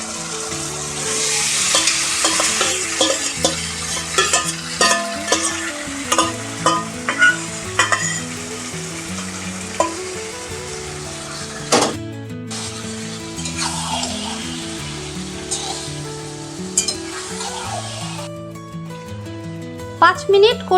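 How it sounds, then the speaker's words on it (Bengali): Marinated chicken meat frying and being stirred in a pan of well-browned onions, a steady loud sizzle with repeated scraping and clinking of the spoon against the pan, while a voice talks over it. "ম্যারিনেট করা মাংস দিয়ে দিচ্ছি।"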